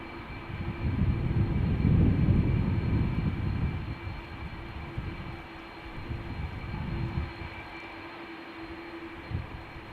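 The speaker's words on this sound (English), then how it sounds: "I think it's the CF6s of this A330 that you're picking up the most on the mic" An Airbus A330 with GE CF6 engines taking off from Schiphol's Polderbaan runway: a deep, broad jet roar swells loudly, eases, then surges again before fading, with no talk over it.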